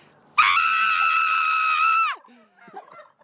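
A person lets out one loud, sustained scream lasting almost two seconds, with a sharp onset and an abrupt cutoff, followed by faint, quiet sounds.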